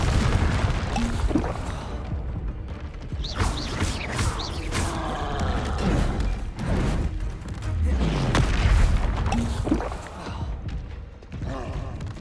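Explosive Confringo spell blasts in Hogwarts Legacy, a series of booming fiery bursts and heavy thumps amid clattering combat effects, loud and close, with a few widely spaced impacts.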